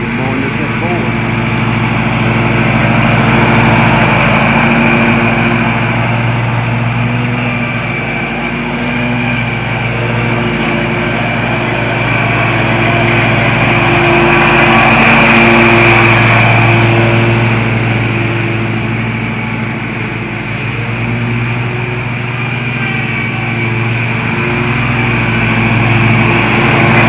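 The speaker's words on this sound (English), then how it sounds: "And we're mowing this at 4." A lawn mower cuts shady St. Augustine grass at height setting 4, its engine droning steadily and loudly close by for the whole stretch, with the pitch swelling slightly now and then.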